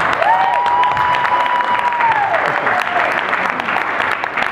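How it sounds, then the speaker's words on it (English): Audience applause at a live performance event, steady clapping with a little cheering from the crowd, while a whistle-like tone rises and holds briefly above it. "let's give a round of applause for Miss Mel."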